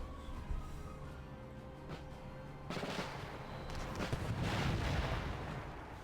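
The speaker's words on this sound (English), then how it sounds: "We got our next bit of artillery coming in." Artillery fires in the video game Empire: Total War. Booming cannon shots and crackling volleys build over a battle din and grow louder and denser toward the end.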